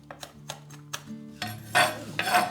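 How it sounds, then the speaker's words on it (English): A knife chopping rock salt on a board in a kitchen, several quick crisp taps in an irregular rhythm, then two louder gritty scraping crunches, close and clear with no talk. "Just gently, a very quick chop with a knife."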